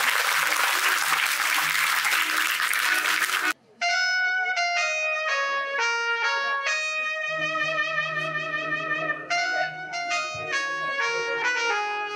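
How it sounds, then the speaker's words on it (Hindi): A crowd claps in a dense burst of applause for a few seconds at a school Independence Day celebration before it cuts off and music begins. "इसीलिए आपकी तालियों की आवाज कीजिए।"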